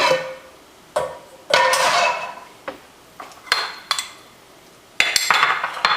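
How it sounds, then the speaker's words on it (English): A metal spoon clinks and taps against a Pyrex glass baking pan while pesto sauce is spooned over chicken, several sharp, irregular knocks and scrapes close by, separated by short quiet gaps. "just put some pesto sauce on top of them"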